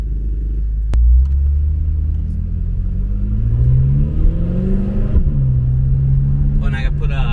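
A tuned BMW truck making over 1150 horsepower, fitted with a titanium exhaust in place of the factory system, rumbles and revs loudly and close by, its pitch climbing and falling through the run, while a voice talks over it.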